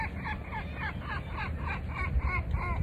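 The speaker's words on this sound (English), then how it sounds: "A couple of noisy seagulls up there." Seagulls calling overhead by the sea on a windy day, a steady series of repeated squawking cries about every third of a second, moderately near, over a rumble of wind noise.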